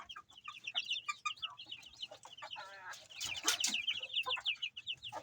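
Young chicks, about 45 days old, kept in a brooding cage wrapped in screen mesh, chirp in dense, continuous high peeps, with some louder clucking calls mixed in.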